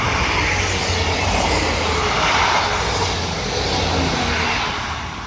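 A Class 159 train passing through Raynes Park station on a line to Waterloo, a loud, close, sustained roar and rumble of wheels and engine that holds steady and begins to fade at the end.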